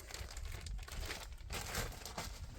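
Faint crinkling and plastic rustling of 3M double-sided tape being handled during a Ford Ranger light-guard fitting, close and quiet with no talk.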